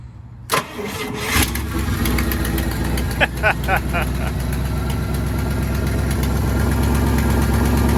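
A 1955 Buick with a Fireball V8, long abandoned, cranks and catches, then settles into a steady, loud, continuous idle with a few brief clanks near the start and a faint voice underneath.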